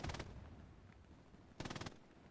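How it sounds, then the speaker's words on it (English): Bursts of gunfire in the World War II shooter video game Hell Let Loose, two rapid automatic volleys separated by a quiet gap, fairly faint and distant-sounding. "hearing the gunshots whizzing past the windows of his train car"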